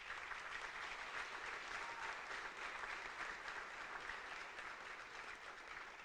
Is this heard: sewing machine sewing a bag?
no